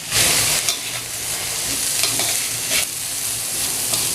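Spices, including red chili powder, turmeric, coriander powder and a little garam masala, are stirred in a hot pan for a ridge gourd curry. The oil sizzles steadily throughout, with scraping strokes of the spoon now and then and no talk.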